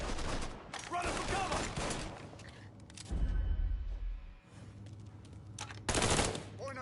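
Gunfire in the video game Mafia 3, heard as bursts of rapid shots that come and go across the stretch, with louder volleys near the start and end and quieter gaps between them.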